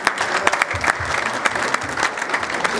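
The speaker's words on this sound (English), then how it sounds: "give yourselves a round of applause" Applause from the audience at a Lagos tech event, a dense, steady clapping that fills the whole stretch at close range with no voices over it.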